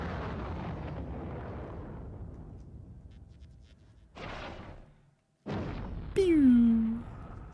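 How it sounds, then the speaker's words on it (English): A spaceship explodes in the factory-building video game Factorio Space Age, with a loud rumbling blast that fades slowly, then a sharp thump, another burst and a descending whooshing tone. "I'm glad you enjoy watching my spaceship explode into a billion pieces."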